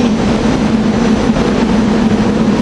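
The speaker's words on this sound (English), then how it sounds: "Here we got SEPTA train 783" A SEPTA commuter train rolls past a station platform in the rain, a steady loud roar and rumble of wheels and engine with a low hum, continuous and close throughout.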